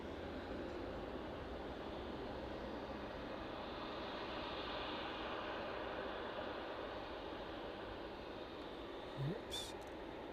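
An aircraft at East Midlands Airport begins to taxi, a steady broad engine rumble and whine held at a distance, with a brief closer knock near the end.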